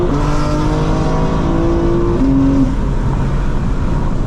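A 2024 BMW M4 Competition xDrive accelerates with a loud, close, continuous engine and exhaust roar, its pitch climbing and then dropping after a shift.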